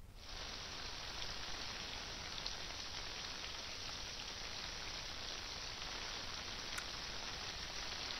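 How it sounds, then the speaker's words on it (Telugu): Heavy downpour in Vijayawada, a dense, steady roar of rain beating on surfaces that starts abruptly and holds evenly, loud and close, with no voices. "విజయవాడ ఇటు గుంటూరు పరిసర ప్రాంతాల్లో కుండపోత వర్షం కురుస్తుంది"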